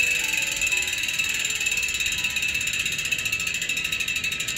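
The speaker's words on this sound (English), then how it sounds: "I know you want to hear a sound check of these Novatec hubs" A Novatec bicycle hub's freewheel ratchet, on a gravel bike being built, spins with a loud, continuous rapid buzz of close clicks and no talking.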